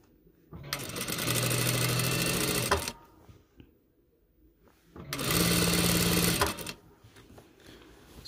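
Electric sewing machine stitching a fine folded hem of about 5 mm on a hijab, two loud steady runs of rapid whirring, each roughly two seconds long, separated by a quiet pause with faint handling noises.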